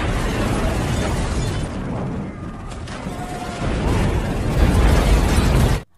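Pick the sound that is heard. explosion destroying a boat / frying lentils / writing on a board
explosion destroying a boat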